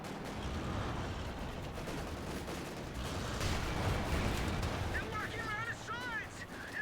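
Gunfire pours onto an infantry squad in the real-time strategy game Company of Heroes 2, a dense rattle of shots and blasts under a continuous busy battle din, with a voice speaking near the end.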